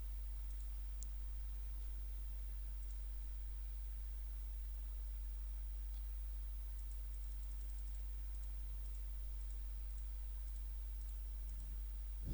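A computer mouse clicks faintly while selecting border options in a Microsoft Excel spreadsheet, a few sparse, light taps scattered over a constant low electrical hum, with no speech.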